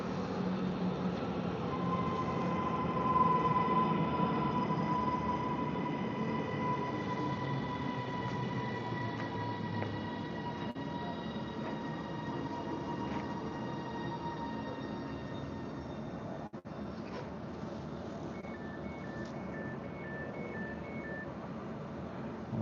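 Train rolling past on a railway, a long steady rumble with faint high wheel squeal and metallic tones, moderately loud and fairly near, with a short beeping signal near the end and no talking.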